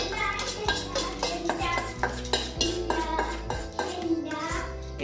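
A metal utensil clinks and scrapes in a pan as scrambled egg is stirred into fried semolina, with repeated sharp knocks in an uneven rhythm and a voice faintly in the background.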